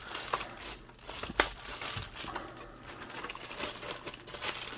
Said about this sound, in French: le sac est fermé, scellé, bien protégé. Ok, on déballe ça.